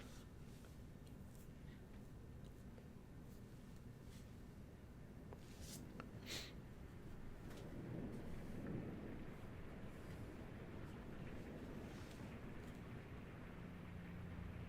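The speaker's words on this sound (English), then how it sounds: "I like the rain. Rain sound effect." Rain falls in the PS5 video game Blue Prince as a soft, steady wash of hiss that goes on throughout, with a few faint clicks and a slight swell midway.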